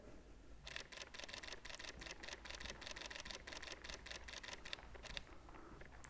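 A Fujifilm X-H1 mirrorless camera shooting a burst at f2 and ISO 3200, with rapid, evenly spaced shutter clicks firing in a quick continuous run up close, then tapering off as the buffer fills, in a quiet setting.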